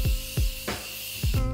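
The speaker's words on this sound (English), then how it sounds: "I'm just gonna spray this all over." Quick pumps of Morphe setting mist sprayed across a face, four short close hissing spritzes, each opening with a soft click of the nozzle, with brief pauses between them.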